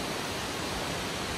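Tumpak Sewu waterfall in Indonesia roars as a dense, steady wash of falling water, loud and unbroken with no voices.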